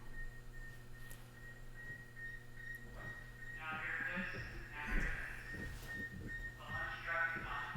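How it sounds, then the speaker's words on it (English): Sputnik satellite radio beeps picked up on a receiver tuned to its frequency: a steady high tone with brighter pulsing bursts, moderately loud, with a voice talking over parts of it. "That is the sound of Sputnik."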